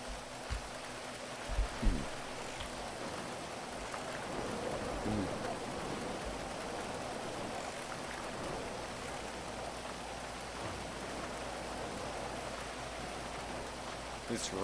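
Steady rain falling in a GTA roleplay game, a soft continuous patter throughout at low level, with a couple of brief low thumps near the start.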